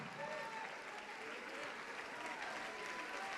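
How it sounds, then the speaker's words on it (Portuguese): A church congregation applauds during a worship service, a full, steady wash of many hands clapping that stays even throughout, with faint voices and cheers threaded through it. "Vamos aplaudir, igreja."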